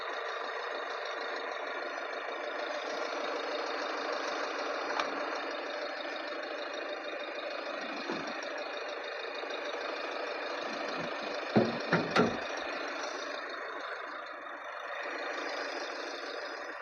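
A 2015 Skoda Rapid Ambition engine runs steadily with a constant mid-pitched hum and faint knocking, briefly rising near the end with a couple of short revving surges.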